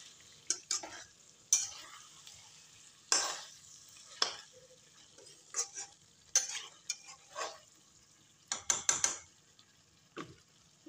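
Chicken and tomatoes fry in a pan over a medium-low gas flame, with a soft sizzle under repeated sharp scrapes and clinks as a spatula stirs them at irregular intervals.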